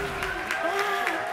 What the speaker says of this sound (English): Oh, the crowd's excited about that one.